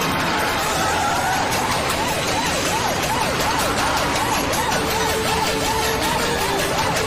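A police car's siren wails in a steady rising and falling pattern while the patrol car pulls over a sedan, loud and close over continuous traffic and engine noise.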